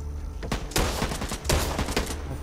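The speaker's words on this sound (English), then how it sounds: "Assault rifle!" An assault rifle fires in the video game Back 4 Blood, with rapid, loud bursts of shots in quick succession and brief pauses between volleys.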